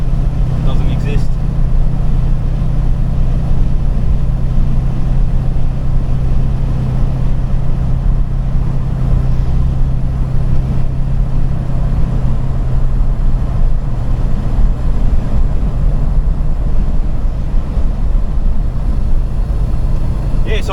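A four-speed Holden Torana drives steadily, its engine a constant low drone with road rumble throughout, while people talk over it now and then.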